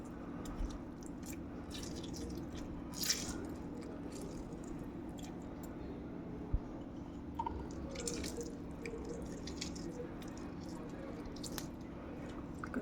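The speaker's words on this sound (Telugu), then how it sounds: "Two limes పిండుకోవాలి friends starting." Two limes squeezed by hand over washed raw chicken, giving soft wet squishes and drips at close range against a steady background hum.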